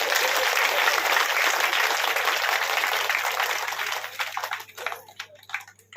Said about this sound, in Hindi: एक बार अपने गांव के लिए ताली बजा रहे हैं